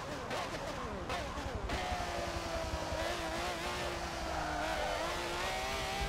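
Racing car engine in Forza Motorsport 7 on a track, a sustained high revving drone that climbs steadily, moderately loud and continuous with faint background noise.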